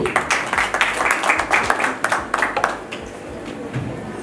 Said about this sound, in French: On applaudit également pour elle.